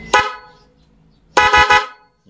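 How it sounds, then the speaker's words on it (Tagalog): A dual horn fitted to a vehicle alongside a mini driving light gives two loud honks, a short sharp blast followed after a pause by a longer, slightly stuttering blast, close and alone with no talk. "Yan pa rin yung dual horn natin."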